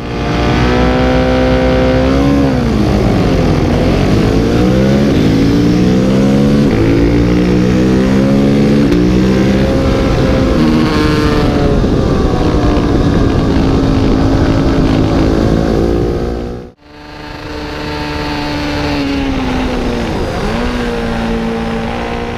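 Supermono single-cylinder racing motorcycles lap the track at Donington Park. Loud engines wail and rise and fall in pitch as the bikes pass close by, with one sharp dip where a machine drops away. No one talks.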